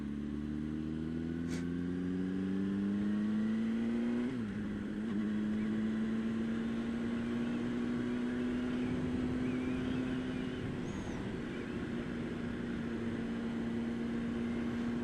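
Drift Ghost S motorcycle being ridden, a steady engine drone with a low harmonic tone that rises and falls slightly as the bike accelerates, with heavy wind rush throughout and no talking.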